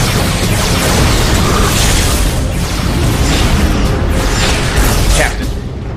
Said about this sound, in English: Open fire! Photonic torpedoes and phase cannons.